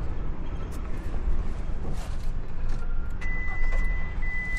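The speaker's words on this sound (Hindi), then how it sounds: "आपको गाड़ी चालू करना है" A car engine in a secondhand car being checked for weak compression is cranked and started, a steady broadband engine rumble running throughout at moderate level with no talk.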